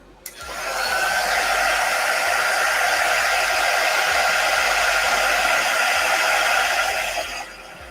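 A hair dryer blows over a Chalk Couture transfer, switching on abruptly and roaring in a loud, steady whoosh for about seven seconds before winding down, close by with no talking.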